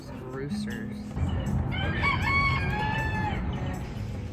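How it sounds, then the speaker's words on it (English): Roosters crow in a residential neighborhood in St. Augustine, Florida, with a drawn-out cock-a-doodle-doo rising clearly over quieter clucking from other fowl nearby. "The neighborhood of our Airbnb has roosters."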